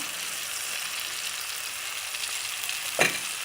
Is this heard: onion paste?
yes